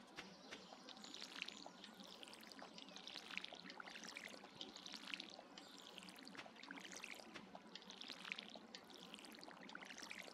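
Watering crops with a watering can in the farming video game Stardew Valley: repeated soft pouring splashes at a steady rhythm, moderately quiet, with no talking.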